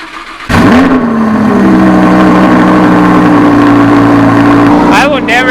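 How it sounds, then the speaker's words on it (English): A Lamborghini Huracan fitted with an aftermarket exhaust fires up with a sharp loud bark, then settles into a steady, deep idle that drones close by before a brief blip at the end. "So let's start the Huracan and get it out of here."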